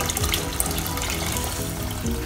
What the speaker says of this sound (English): I'm going to add in approximately about 2 liters of water